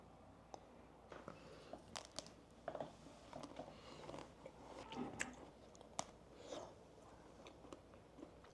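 Zero-sugar cookies and cream ice cream from a convenience store being eaten close to the mic: soft bites and chewing with scattered small crunchy clicks, quiet and intermittent, no talking.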